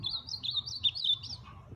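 A young azulão (ultramarine grosbeak) in a cage gives a fast run of high, thin chirps, close and clear, over a low background hum, then falls quiet near the end.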